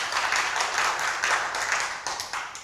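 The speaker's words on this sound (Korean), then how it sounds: "김명숙 대표님과 광주시 식생활교육협회 위원님들께 다시 한번 큰 박수 부탁드리겠습니다" Sustained audience clapping at a Korean community forum in Gwangju, steady and fairly close, filling the room with dense, even applause throughout.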